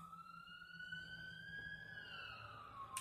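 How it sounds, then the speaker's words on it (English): A police car or ambulance siren wails faintly in the distance as it passes, its steady tone slowly rising and then falling away over quiet indoor background noise. "there's an officer going by. Or an ambulance."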